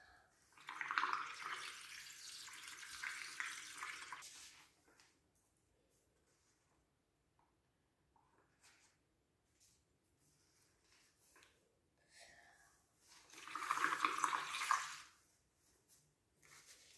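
Blowing through a straw into a soapy paint mixture gives two bursts of bubbling, fizzy gurgles several seconds long, with quiet near-silence in between.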